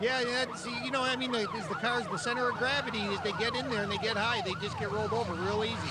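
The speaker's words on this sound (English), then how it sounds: "So, as you can hear the sirens going off there," Several emergency sirens wail and overlap continuously at a racetrack after a car rollover crash, rising and falling in pitch, while someone talks over them.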